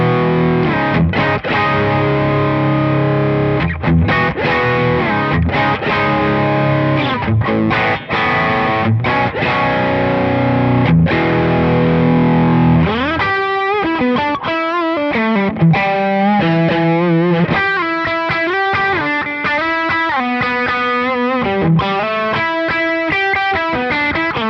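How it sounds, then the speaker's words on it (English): An electric guitar runs through a Tube Screamer overdrive pedal into a REVV D20 amplifier, playing gritty, distorted chords first and then a faster run of single notes, loud and continuous with no talking. "And here's the tube screamer."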